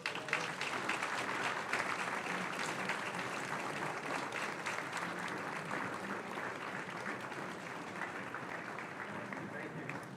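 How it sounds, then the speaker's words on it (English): Sustained applause from a banquet audience honoring coaches at a high school varsity athletic banquet, dense and steady clapping filling the room for the full stretch without a break. "let's give them a big round of applause"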